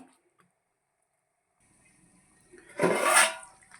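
After near silence, water gushes into a pan of drumstick and mango curry in a short, rushing splash that swells and then fades.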